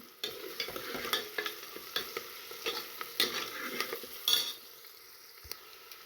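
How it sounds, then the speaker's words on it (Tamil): Onions fry in a pan for mutton curry, a soft sizzle broken by frequent spoon scrapes and clinks against the pan, close up, and quieter toward the end, with no talk. "நல்லா வேகட்டும், வெங்காயம் நல்லா வேகட்டும்"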